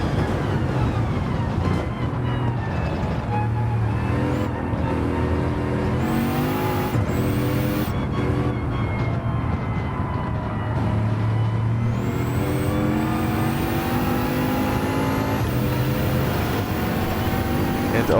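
Race car engines roar along the main straight in an F1-style racing sim, a steady loud drone of several cars with rising and falling pitch sweeps as they pass and shift, continuous throughout with no talk.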